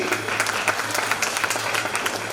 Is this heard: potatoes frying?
no